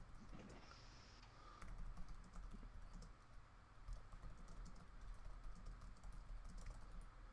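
Typing on a computer keyboard, a quiet run of quick, uneven key clicks pattering on and off for several seconds against a low background hum, with no talk.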